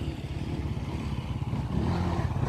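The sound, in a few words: motor engines passing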